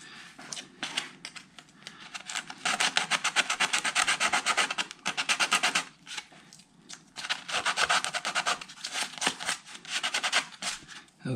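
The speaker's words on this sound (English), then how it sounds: "Sand the corners." Sticky-back sandpaper on a thumb sands the corners of an acoustic guitar's top braces by hand. It makes a close, dry rubbing rasp in quick back-and-forth strokes, runs in long bursts and pauses briefly twice.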